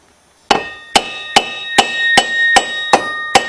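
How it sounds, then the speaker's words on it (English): A hammer taps the axle of a Suzuki Z400 ATV to drive it out, giving eight sharp, evenly spaced metallic strikes with a ringing tone, close and loud with nothing else heard. "if I tap it here, I think the whole axle should just pop right out."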